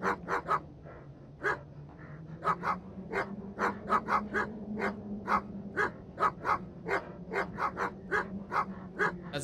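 A dog barks repeatedly in the video game Stay Out of the House, sharp regular barks over a steady low hum, fairly close and loud.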